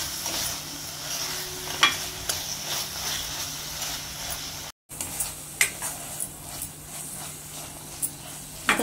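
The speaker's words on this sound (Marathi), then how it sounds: "आता सुकट चांगली मसाल्यामध्ये परतून घ्यायची।" Dried prawns stir-fried in a roasted masala give a steady low sizzle, broken by occasional scrapes and clinks of a spoon against the pan, close by, with no talking.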